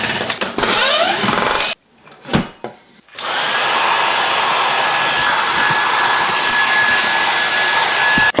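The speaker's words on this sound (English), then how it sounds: "So I was kind of hovering the vacuum over the circuit board." A loud vacuum cleaner whines and roars while hovering over a circuit board, briefly cutting out before starting again and holding a steady high-pitched drone.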